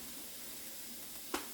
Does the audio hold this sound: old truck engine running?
no